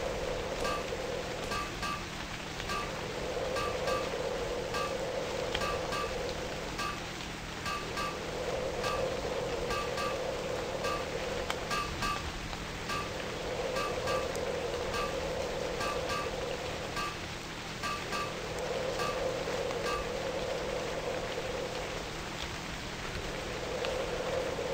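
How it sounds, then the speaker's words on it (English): Steady rain falls in the video game Novus Inceptio, a continuous soft hiss with a faint pulsing swell every few seconds, alone and without voices. "This rain is going."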